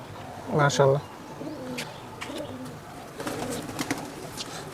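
A Giribaz pigeon gives a soft, throaty coo up close, followed by faint rustling and quiet background sounds.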